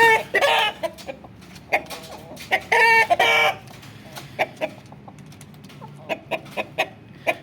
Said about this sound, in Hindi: वो आपस में लड़ रहे हैं, उन्हें समझ नहीं आ रही। ये मुर्गा इस मुर्गी को मार रहा है।